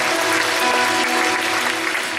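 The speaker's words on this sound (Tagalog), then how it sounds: "Sa malakas sa palakpak po sa Panginoon" A church congregation claps for the Lord in a brief, dense burst of applause, loud and steady, with no voices over it.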